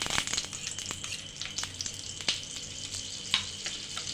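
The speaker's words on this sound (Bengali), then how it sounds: "কড়াইতে তেল দিয়ে দিলাম, সামান্য পরিমাণ 2 চামচ আমি সাদা তেল দিলাম।" Oil and butter sizzle in a wok with a continuous crackling hiss and occasional sharper pops and clicks, close by and steady, with no voices.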